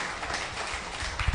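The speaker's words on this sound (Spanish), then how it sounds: "Den un fuerte aplauso a nuestro Dios maravilloso y hermoso" A church congregation claps together for a brief, dense burst of applause during a Spanish-language evangelical service, fairly close and steady with no talk over it.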